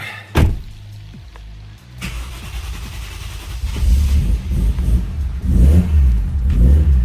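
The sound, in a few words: car engine starting and revving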